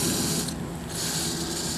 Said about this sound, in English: Let's blast it with some water.